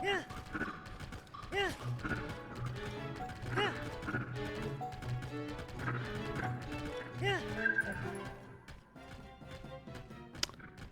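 Horse neighs and clip-clopping hooves in the video game Final Fantasy XIV, steady in-game sounds running under continuous talking, with a couple of louder whinnies standing out.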